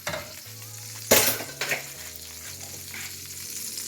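Pork chop drippings hiss and sizzle as they are poured from one pan into a bigger hot pan, a sharp burst of frying noise over a steady low hum, loud and close.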